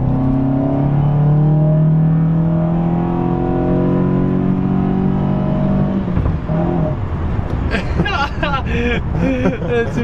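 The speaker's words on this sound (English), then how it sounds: "you can definitely hear the pod filter. It's so loud. It sounds mean." A Nissan Silvia S14 drift car engine revs loudly through a pod filter with no exhaust, its pitch rising and falling for several seconds before people start talking over the idling rumble.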